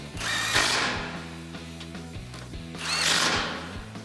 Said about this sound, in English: Then with your 17mm socket and your extension, again, you might have to pull back on the plastic just a bit so you can tighten these down.